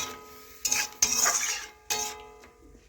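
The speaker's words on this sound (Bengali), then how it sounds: "একটু নাড়াচাড়া করে এভাবে মিশিয়ে নেব সবজিগুলো।" Potato and broccoli being stirred with water in a pan, heard as three distinct bursts of a spoon scraping and clinking against the pan with quieter pauses between them, no talking.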